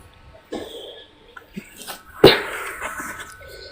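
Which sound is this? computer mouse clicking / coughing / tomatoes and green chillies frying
coughing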